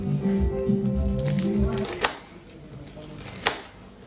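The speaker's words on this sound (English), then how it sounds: "now I am chopping some onion to add to the Sukuma Wiki, to the Ugandan greens." An onion is chopped on a board for Ugandan sukuma wiki greens, with a run of quick knife strokes followed by a couple of sharper isolated chops, and some faint voice and kitchen noise in the background.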